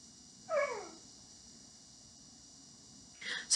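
A dog waiting outside and wanting to come in gives a short high whine, followed by quiet and then another brief whimper near the end, faint against a steady electrical hum.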